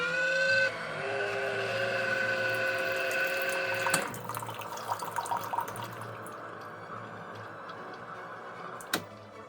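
Bartesian robot cocktail maker runs its first-use water clean cycle, a steady mechanical hum with flowing water for about four seconds, then quieter running water with small clicks and a sharp click near the end.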